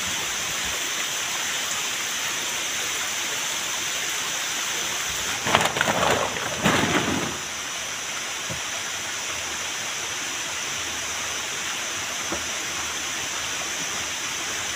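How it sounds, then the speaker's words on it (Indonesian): Rain falls steadily in a forest around a makeshift wooden shelter, making an even, constant hiss. A brief louder rush of splashing comes partway through, then the downpour settles back to its steady level. "Pas waktu pembongkaran ini saya kaget, hujan turun."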